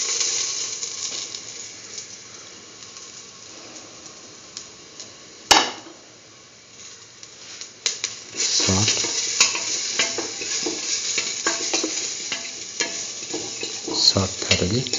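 Coriander, fennel and poppy seeds, cashews and cardamom fry and crackle in a pan, with a steady sizzle, scraping stirs and a few sharp knocks against the pan, growing busier in the second half.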